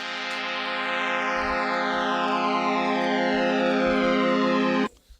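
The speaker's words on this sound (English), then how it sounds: "Doesn't that sound like pulse width modulation?" A sustained Korg M1 synth tone from a Hypersynth Hcard-101 flange preset, with sweeping, phasing harmonics like pulse width modulation shifting continuously across the note, steady and bright, ending abruptly after about five seconds.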